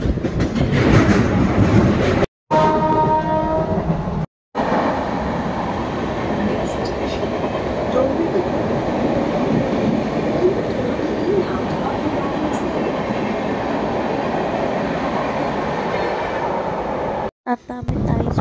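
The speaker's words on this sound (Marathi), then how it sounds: "आता आम्ही बसणार ट्रेनमध्ये अंबरनाथ आणि ठाकुर्ल्याला आम्ही उतरणार." A Mumbai local train ride toward Thakurli, with a loud steady rumble of the carriage on the rails, rhythmic wheel clatter and occasional squeals, and voices faint in the background.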